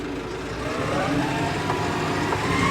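A 2012 New Holland T6.160 tractor with a 4.5-litre, 163-horsepower engine rumbles steadily while reversing, a close, even diesel drone with no talk over it.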